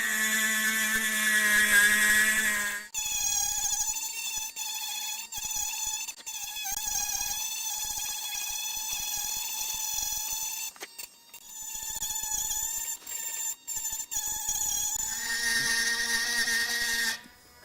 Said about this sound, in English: this demonstration of the TCMT006, the Tork mini grinder, and a couple of its attachments and capabilities